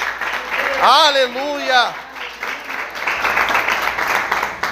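A church congregation applauding the Lord, steady clapping in the background after a voice calls out briefly, the applause continuing at moderate volume to the end.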